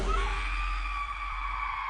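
A frightened woman screams in a horror film scene, a sustained high shrill cry held steadily for the whole moment and fading slightly near the end.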